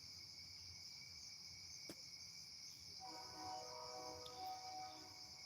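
Cicadas on an August summer night in Wisconsin buzz in a continuous high-pitched drone, joined partway through by a faint tonal hum in the distance, with a single sharp click early on.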